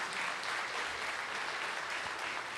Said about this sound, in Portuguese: Palmas para os irmãos da mídia, irmãos.